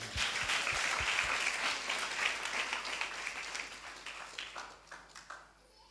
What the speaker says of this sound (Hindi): ताली बजाओ इसमें।